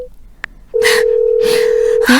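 An unanswered telephone call gives a steady, unbroken ringback tone lasting over a second, while a recorded voice talks over it in short bursts.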